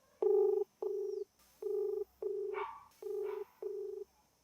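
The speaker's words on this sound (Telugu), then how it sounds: "సో రింగ్ అవుతుంది" Telephone ringback tone on a phone-in call placed by a news reporter in Nizamabad, heard as six clear electronic tone bursts in uneven pairs with short gaps, no talking.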